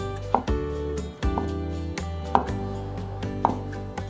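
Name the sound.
knife chopping thick shiitake mushrooms into strips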